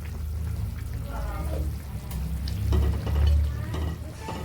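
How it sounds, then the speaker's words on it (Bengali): Chhanar bora gravy bubbles and simmers in a pan, a soft continuous sizzle with gentle stirring and liquid sounds, heard close under a voice speaking. "ঝোলটা খুব সুন্দর করে ফুটে এসছে।"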